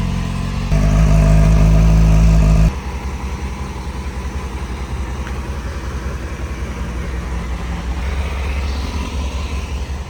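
A motorcycle engine fires up with a loud burst that holds briefly, then settles into a steady, rumbling idle that runs on, close by, with no voices over it.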